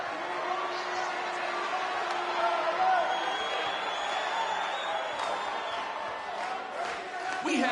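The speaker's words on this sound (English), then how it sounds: "We have a sold-out, record-setting crowd here for BCW tonight." A sold-out arena crowd in the WWE 2K19 wrestling game roars steadily as a continuous wash of cheering, with an announcer's voice speaking over it.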